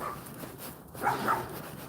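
A dog gives a couple of short, fairly faint barks or yips on an evening walk, with quiet outdoor background and no talk.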